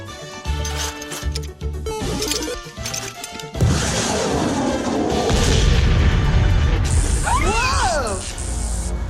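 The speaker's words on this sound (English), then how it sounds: "I'll nuke him with my atomic spud gun" A cartoon atomic spud gun fires with a loud, booming blast, followed by sustained roaring rumble and whooshing effects, with a short burst of cartoon voices before the shot.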